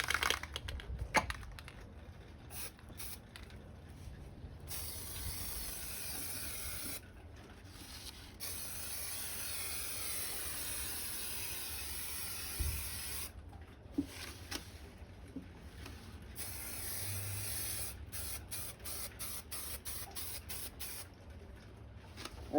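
A Mandalorian helmet on a swivel table is spray painted in several long, hissing bursts separated by short pauses. The sound is fairly quiet and steady, with clicks from the can between passes.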